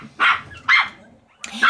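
Yorkshire terrier dogs barking indoors, three sharp, loud bursts of high-pitched yapping separated by short pauses.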